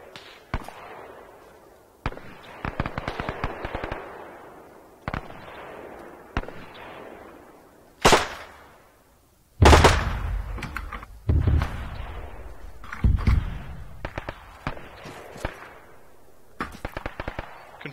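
Mortar rounds landing in ArmA 3, a series of loud booming impacts with sharp cracks, several heavy blasts spaced irregularly over the stretch, some distant and some closer, with no voices.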